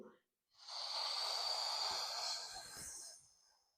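A long, forceful breath is pushed out through the mouth during an abdominal breathing exercise. It is a close, airy hiss that lasts about three seconds and then fades, after a brief silence.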